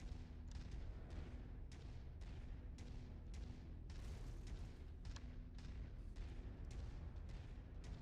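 Video game gunfire rings out as a steady run of sharp, evenly spaced shots, roughly a dozen, over a constant low rumble, moderately loud and with no voices.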